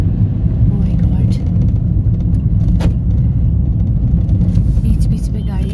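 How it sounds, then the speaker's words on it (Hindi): A car travels along a forest road near Mahabaleshwar, giving a steady, fairly loud low rumble throughout with faint voices mixed in. "बीच बीच में गाड़ी आती है।"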